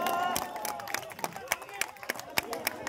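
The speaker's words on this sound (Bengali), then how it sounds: "জোরে হাততালি।" An audience at a local club event in Kolkata claps, with scattered, uneven hand claps over background chatter and a voice speaking through a loudspeaker.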